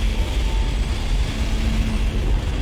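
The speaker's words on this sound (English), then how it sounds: "Engines firing." Spaceship engines fire in the Dead Space game, a loud, continuous deep rumble with faint steady tones running through it, unbroken for the whole stretch.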